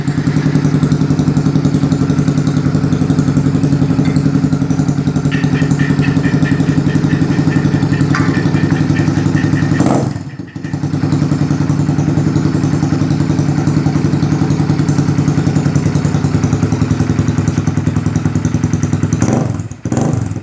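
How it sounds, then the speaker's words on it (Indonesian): Kawasaki W175 SE motorcycle fitted with a Sniper Vannes-style aftermarket exhaust, idling steadily and loudly at close range for about twenty seconds, with a brief dip near the middle and another near the end. "kita coba untuk video suaranya dari produk Sniper knalpot"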